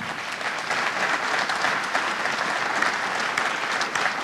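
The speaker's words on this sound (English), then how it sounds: "I think we should give them a little round of applause for that" Warm, continuous applause from a debate audience honoring the host college during a gubernatorial debate, many hands clapping evenly throughout at moderate distance with no talk over it.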